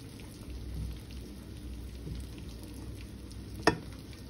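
Green beans fry in a pan as they are stirred, a soft, steady crackling sizzle heard close up with one sharp clack of a utensil near the end and no talking.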